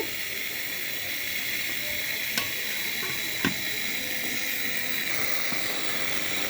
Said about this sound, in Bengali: মশলা কষানো হচ্ছে, মাছ দিয়ে দিচ্ছি।